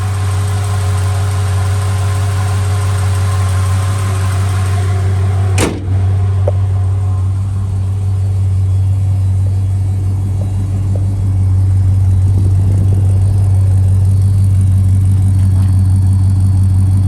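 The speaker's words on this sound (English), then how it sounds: "Nice exhaust note out of the back." An LS V8 engine in a 1955 Chevrolet Bel Air idles steadily with a deep, even exhaust rumble, close and loud, plus a brief click partway through.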